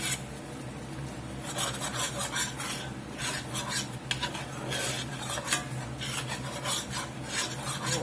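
A spoon stirs a flour and grease roux for bacon gravy in a pan, making continuous close scraping and rasping strokes with a faint sizzle beneath.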